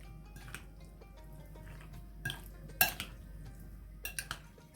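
Spices, including white pepper and garlic powder, stirred in a bowl for chicken shashlik, with quiet scraping and light clinks of a spoon against the dish, a few sharper taps near the end.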